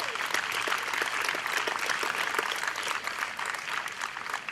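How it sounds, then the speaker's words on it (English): A crowd at an outdoor Memorial Day ceremony in a garden of honor in Hillsborough applauds: dense, continuous clapping from many hands, fairly loud and sustained throughout with no talking. "Just another round of applause for our singers"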